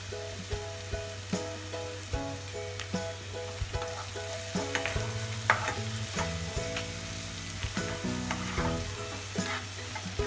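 Onions frying in a pan as turmeric powder goes in for a corn capsicum masala, with a continuous sizzle, occasional spoon knocks and stirring clatter, and a faint tonal background hum throughout.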